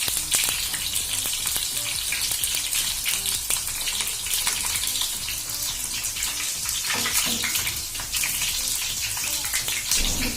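Bitter gourd slices fry in a small frying pan on a gas stove, giving a loud, continuous crackling sizzle with scattered pops for the whole stretch.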